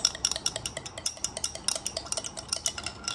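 Black salt being stirred into apple cider vinegar with a spoon, giving a steady run of quick, close metallic clinks and scrapes against the vessel and no talk.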